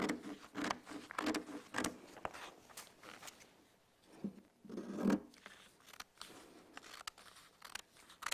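Scissors cutting material in a series of quick, close snips and rustles, with a brief lull midway before the cutting resumes.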